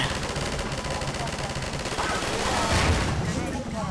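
Rapid, sustained gunfire from the video game Half-Life 2 rattles continuously for about four seconds, loud and dense, with a brief swell of louder bursts near the end.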